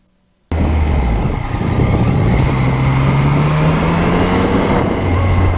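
A 2020 Yamaha MT-09 motorcycle rolls in on a rainy day, its engine droning loud and close for several seconds as the pitch rises slowly while it rides up into a driveway.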